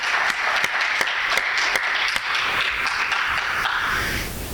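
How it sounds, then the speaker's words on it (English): An audience at the Washington Grove annual town meeting applauds steadily, a dense wash of clapping with a few sharper individual claps standing out, holding at an even level throughout before easing slightly at the very end. "A round of applause for Rob"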